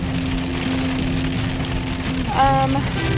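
Rain falls outdoors on an autumn evening, a steady even hiss throughout with a brief tonal whine rising over it near the end.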